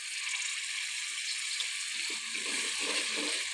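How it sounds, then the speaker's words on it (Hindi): Water pours steadily into a pan of carrot, pea, potato and cauliflower sabzi in a home kitchen, a constant close splashing hiss, with a low clattering stir toward the end. "और अब इसमें थोड़ा सा मैं पानी ऐड करूँगी।"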